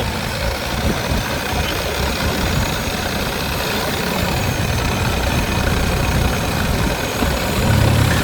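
A boat engine pushes along a canal in Thailand with a loud, steady, rumbling drone that fills the whole stretch without a break; no voices are heard.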